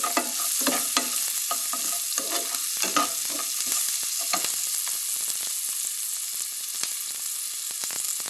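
Steady sizzling and crackling of seasoning frying in hot oil with a little turmeric, with occasional stirring clinks; no voices.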